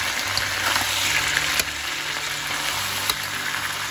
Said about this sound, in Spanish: yo tengo esto a fuego bien alto para que el pollo se